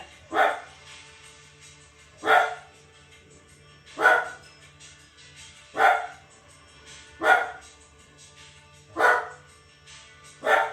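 Dogs bark in sharp, evenly spaced bursts, about one every two seconds, seven in all, fairly close and clear with no talking. No sounds of scuffling or fighting come through.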